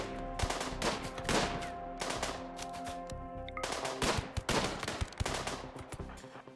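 Heavy SMG fire in the RimWorld video game, with dense, rapid bursts of gunshots crackling almost nonstop over a steady musical background, fairly loud and without speech.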